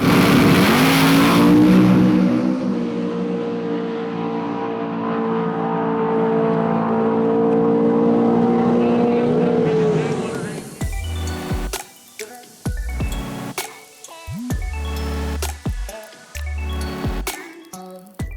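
Naturally aspirated import drag car at a World Cup Finals event roaring down the strip in a long, loud sustained pull, then fading as other sharp noises and shifting sounds follow.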